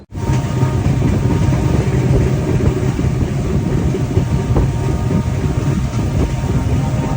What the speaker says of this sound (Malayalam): അങ്ങനെ ട്രെയിൻ ഇപ്പോൾ ഡിബ്രൂഗഡ് റെയിൽവേ സ്റ്റേഷനിലേക്ക് എത്തിയിരിക്കുകയാണ്